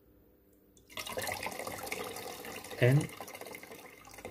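Water in a flask kept boiling vigorously at low temperature during the Franklin experiment, a steady bubbling, gurgling wash close by, with a brief louder burst near the end and a voice speaking over it.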